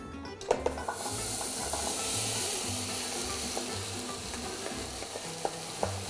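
Pineapple, tomato and zucchini cook over medium heat in a pan for jam, giving a steady, close hiss and sizzle with a few light clicks and spoon taps.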